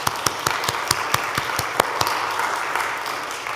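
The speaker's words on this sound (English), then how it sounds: "Sarah's clapping" One person claps in a steady, moderately paced rhythm of about fifteen sharp, close hand claps, fading slightly toward the end, with faint room murmur behind.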